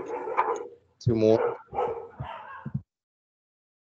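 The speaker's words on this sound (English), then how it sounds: "No, that's my dog's going crazy." A pet dog barks excitedly a few times in a home, sharp yelps mixed in with a person talking nearby, the barks close and fairly loud before falling silent.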